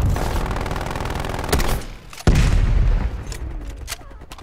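A hostile sentry turret in Call of Duty: Black Ops Cold War rips off rapid machine-gun bursts with booming impacts, loud and close, pausing briefly before a sharp crack restarts the fire.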